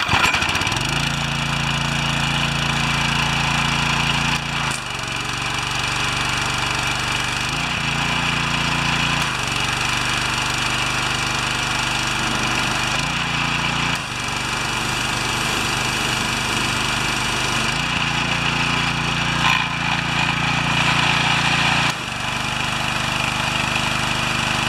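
A Briggs & Stratton 190cc engine runs on a pressure washer fitted with a new pump, fresh oil and a new air filter, humming steadily and loud throughout with periodic shifts in load as the pump engages and releases.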